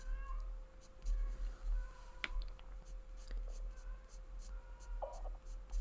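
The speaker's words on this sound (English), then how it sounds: "And that's the cat." A house cat gives a few faint meows over quiet, steady scratching of coloring pencils on paper, with a low hum underneath.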